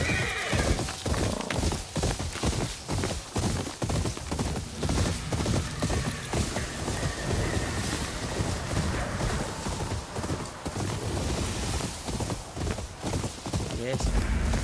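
Horse hooves clip-clop rapidly at a gallop with repeated neighs and whinnies in the samurai action game Ghost of Yotei, loud and continuous throughout, with someone talking over it.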